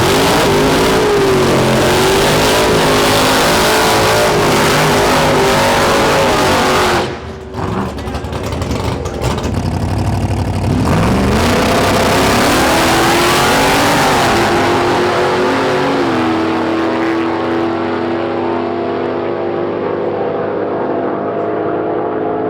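An 850 BHP Chevrolet C10 drag racing at Santa Pod roars loudly and steadily down the strip, briefly dips, then holds a strong high-revving drone before easing off, with some voices in the background.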